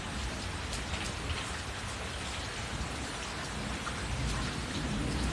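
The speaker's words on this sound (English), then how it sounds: "You can't even see out of the screen right now. It rained so hard" Heavy rain pours down in a thunderstorm, a dense, steady hiss of drops drumming on surfaces that holds at an even, loud level throughout with no voices.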